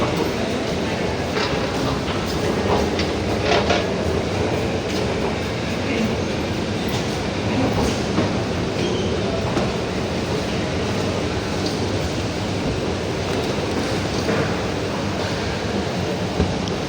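A KRL commuter train at Pasar Senen station in Jakarta at night, with a steady, loud rolling rumble and rail clatter running throughout and no one talking.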